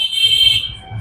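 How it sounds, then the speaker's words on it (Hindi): Steady high-pitched electronic beep from a multimeter continuity test on a 1200-watt mono amplifier driver board, continuous and close, fading near the end. "अब सब में दोस्तों बीप का आवाज आ रहा है"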